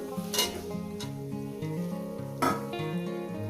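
Fried potatoes sizzle steadily in a pan as poppy seed paste, water and tomato go in for aloo posto, with a couple of sharp stirring clinks over a soft background tune.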